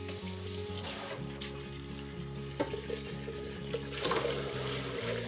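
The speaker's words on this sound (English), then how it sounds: "So let's just give this a quick rinse." Tap water running into a kitchen sink to rinse a cooking pot, a steady close splashing stream with a few clanks of cookware being handled.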